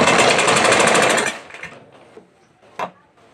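A sewing machine stitches a piping strip onto a blouse, a loud, fast, even buzzing run that stops abruptly after about a second, followed by quiet handling clicks and one sharp tap.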